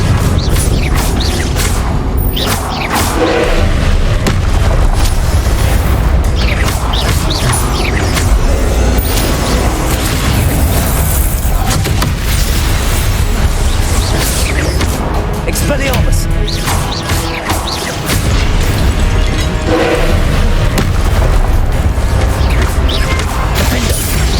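Spell blasts in a Hogwarts Legacy boss battle: dense, continuous booms, crashes and whooshing impacts with game music, loud throughout, under frequent excited talk from a player.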